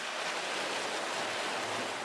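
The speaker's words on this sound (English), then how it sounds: "Before freezing, one last step is necessary, and that begins in these large washers." Large industrial washers for salmon fillets churn water in a steady, dense rush of splashing flow, unbroken and fairly loud, with no voices over it.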